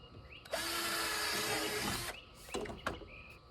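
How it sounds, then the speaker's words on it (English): A power drill bores a hole during above-ground pool step and handrail installation, a loud steady whine running about a second and a half, followed by short clicks and brief bursts of tool handling. "is where you have to drill your hole"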